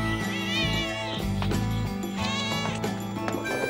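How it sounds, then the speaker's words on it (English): A pregnant cat gives drawn-out, wavering meows with a bleat-like quality, several cries in a row at close range over a low background hum. "I think there's something wrong with this cat."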